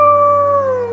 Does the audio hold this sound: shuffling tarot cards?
no